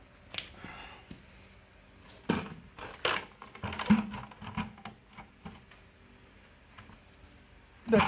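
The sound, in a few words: hammer taps on a 1959 Willys CJ-5 steering gear case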